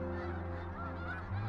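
Sandhill cranes calling during migration, a steady loud chorus of honking, rattling calls from many birds at once, continuous throughout with no talk.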